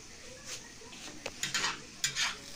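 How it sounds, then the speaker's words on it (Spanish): A seafood mix of shrimp, manta ray and squid being stirred in a pan, faint soft scrapes and clinks of a utensil against the pan over a low sizzle, a few distinct strokes. "Le vamos a dar vueltitas, lo vamos a revolver"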